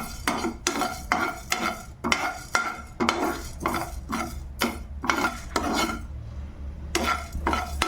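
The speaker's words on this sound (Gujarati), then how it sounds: "હવે આપણે એક કઢાઈમાં થોડું જીરું લીધું છે અને ધાણા લીધા છે, એ આપણે શેકી લઈશું" Cumin and coriander seeds roasting in a kadai, stirred with a utensil: a steady run of close scraping, rustling strokes in a loose rhythm over a faint low hum, with one brief pause near the end.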